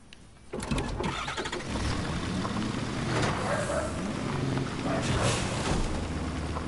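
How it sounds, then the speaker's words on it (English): A semi truck's engine cranks and catches in a video game, then settles into a loud, steady rumbling idle that holds close and alone for several seconds. "Taking this semi truck."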